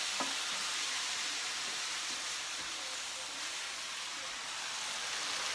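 Buffalo chicken sautéing in a pan for chili, a steady broad sizzle and hiss of frying with a few faint clinks, continuous and close throughout.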